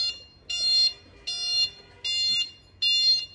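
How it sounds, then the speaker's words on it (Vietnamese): Reversing warning beeper of a LIMOXIN electric three-wheeler, four evenly spaced high electronic beeps repeating at a steady pace, moderately loud over a quiet outdoor background with no talking. "Có tiếng là lùi"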